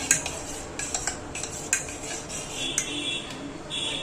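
Utensil scraping and clinking against a bowl while cheese ball batter is mixed, with repeated irregular stirring knocks close by and no talk.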